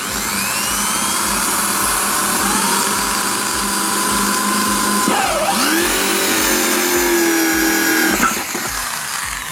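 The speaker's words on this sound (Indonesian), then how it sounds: "kemudian kita lakukan pengeboran untuk pembuatan lubang, yaitu dari pipa" A power drill whines steadily while boring holes in a plastic paint bucket for PVC pipe, with the motor pitch dipping and rising as the bit bites and breaks through, loud and close with no talk.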